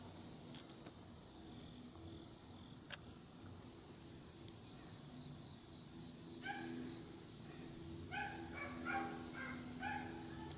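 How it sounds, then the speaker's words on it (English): Dog barking near the former Norfolk and Western Shepherdstown Station, a few faint distant barks in short bursts toward the end, over a steady background of chirping insects on a warm day. "Complete with barking dog."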